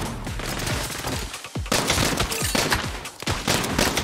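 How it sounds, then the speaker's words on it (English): Rapid volleys of fireworks crackle and boom in Saints Row, a dense burst of sharp overlapping bangs in fast succession, loud and close, with no talk. "What is that? Oh, fireworks!"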